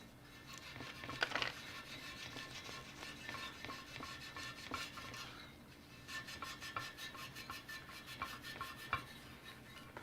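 Scrubbing a vintage Honda CB350 motorcycle gas tank with a Scotch-Brite pad, a quiet raspy back-and-forth rubbing in quick repeated strokes, close and continuous with small bursts of faster scrubbing.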